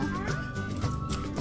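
A cat hiding under a parked car lets out a few close, clear meows in quick succession, with faint children's voices nearby.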